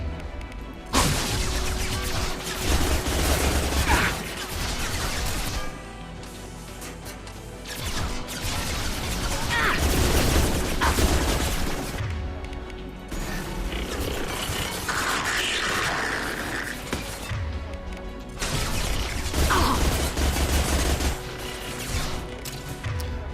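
Loud, chaotic combat gunfire in the sci-fi shooter Mass Effect 2, with sharp cracks, whooshes and impacts layered over a continuous game soundscape, without talk.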